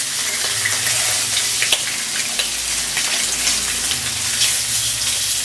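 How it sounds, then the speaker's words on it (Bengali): Eggs frying in a small amount of oil give off a loud, dense, continuous sizzle, spattering with small crackles and a few soft clicks throughout. "আমি কিন্তু ডিম ভাজছি, কিন্তু আমি বেশি তেল দিইনি।"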